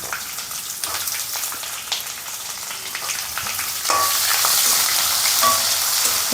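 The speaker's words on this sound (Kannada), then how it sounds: "ಈರುಳ್ಳಿ ಹಾಕ್ಬಿಟ್ಟು ಚೆನ್ನಾಗಿ ಫ್ರೈ ಮಾಡ್ತೀನಿ" Chopped onions sizzle in hot oil with crackling mustard seeds and curry leaves for vegetable upma. The frying hiss is steady and close, then jumps louder midway, with no talking.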